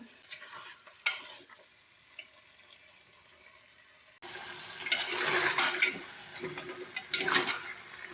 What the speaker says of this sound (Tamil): நல்லா வதக்கிக்கணுங்க எண்ணெயிலேயே பாதி அளவுக்கு வெந்துடணும்